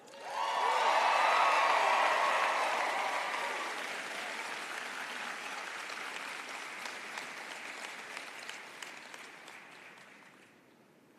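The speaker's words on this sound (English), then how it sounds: "Graduates, did you hear those cheers?" A graduation crowd at the University of Colorado Denver fall commencement bursts into applause and cheering that swells quickly, then fades away slowly over several seconds as the clapping thins out.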